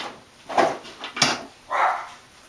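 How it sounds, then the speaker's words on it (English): Two dogs bark indoors in a home, several sharp close barks in an uneven sequence with pauses, loud and alone without talk. "my dog and his cousin are barking"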